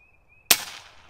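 A single sharp report from an FX Impact M3 air rifle cracks out mid-clip after a faint steady tone, then decays quickly into a short tail, with no talking.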